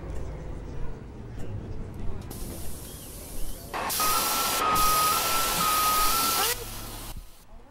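Air hiss of a bus kneeling in the Omsi 2 driving simulator: a loud, steady rush of escaping air lasting nearly three seconds, with a faint warning beep tone running through it, following quieter engine rumble.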